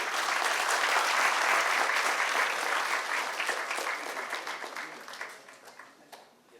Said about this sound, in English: One more round of applause for Hari Menon.